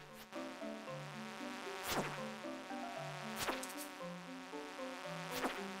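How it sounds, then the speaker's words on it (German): A fly in the video game Stardew Valley buzzes in passing a few times over a steady, melodic electronic music loop, its drone swelling and fading as it moves close. "Hier eine blöde Fliege."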